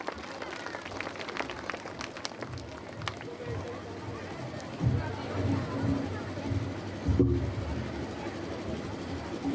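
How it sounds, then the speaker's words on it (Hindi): An audience claps throughout a school centenary jubilee cultural programme at St Stanislas, Ranchi, making a steady, moderately distant wash of applause with crowd murmur underneath and a couple of louder swells. "एक बार जोरदार तालियां बजा दें।"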